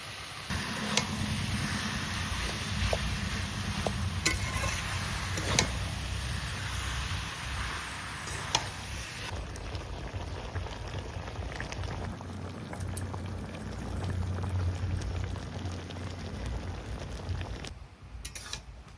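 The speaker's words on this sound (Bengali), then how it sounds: "গুড়ের মধ্যে চালতাটা আমি ফুটিয়ে নিচ্ছি" Chalta (elephant apple) bubbling in melted jaggery in a rustic home kitchen, a close, steady simmering burble with occasional pops and soft clicks, continuous for the whole stretch.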